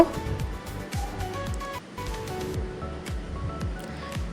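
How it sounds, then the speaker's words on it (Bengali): Chopped bitter gourd being stirred with fried onions in a pan, giving a steady close sizzle with repeated scraping and tossing strokes that run through the whole stretch without speech. "সেগুলো এখন অ্যাড করে দিলাম এবং পেঁয়াজের সাথে এটা ভালোভাবে একটু নেড়ে চেড়ে নেব"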